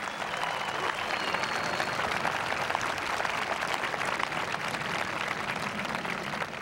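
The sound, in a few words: applause at graduation ceremony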